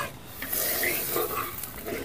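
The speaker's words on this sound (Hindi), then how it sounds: "और नमक को भी अच्छे से अब मिला लेंगे।" Salt being stirred into a bubbling mustard curry gravy for Bengali-style piyasi fish with brinjal, a soft scraping stir over a faint sizzle, close and quiet with no talk.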